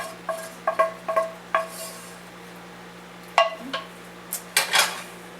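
Chopped vegetables are added to meat in a bowl for stuffed cabbage, producing bright clinks and taps of a utensil against the dish in short irregular bursts over a low steady hum.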